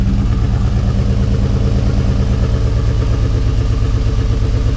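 A swapped Ford Coyote engine idles roughly and steadily close by after its first start following long storage, with a rapid low chugging pulse and some mechanical clatter, no voices.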